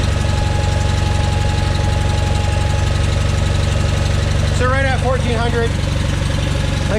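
An Onan engine on a John Deere 318 tractor idles steadily and close, a constant rumbling drone set around 1400 RPM, with a brief voice heard over it partway through.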